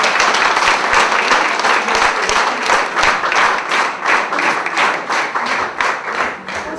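An audience at a music school anniversary ceremony in Sevan claps loudly and steadily, a dense close round of applause that runs throughout.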